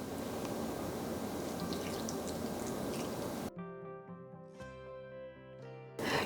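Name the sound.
pouring vinegar solution over ginger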